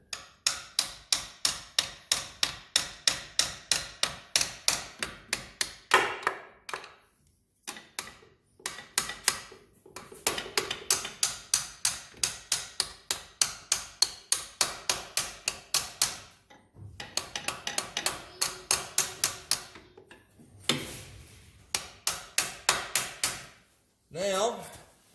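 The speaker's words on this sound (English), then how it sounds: "get me a small hammer so I can tap that gear, that shifter pedal in place" A small hammer tapping the shifter pedal into place on a 1999 Kawasaki Vulcan 1500 Nomad motorcycle: rapid, evenly spaced metallic taps in long runs, broken by brief pauses and a few scraping handling noises.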